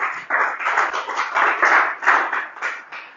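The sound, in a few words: congregation clapping to acclaim the Lord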